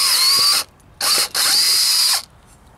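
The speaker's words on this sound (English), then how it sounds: "I'm gonna go ahead and drill one more step and you'll see what it does to this right here" A step drill bit cuts through a workpiece in three loud, close, high-pitched whirring bursts with brief gaps between them, and no one speaks.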